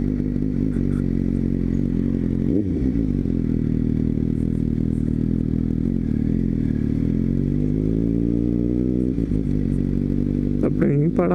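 A Suzuki GSX-S750A motorcycle riding on the road, a loud steady engine drone with shifting pitch, a brief dip around a gear change and rising revs toward the end, with wind roar and a voice in the mix.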